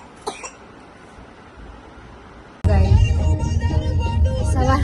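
A small child gives a single short cough near the start, then loud, steady vehicle noise takes over and runs to the end.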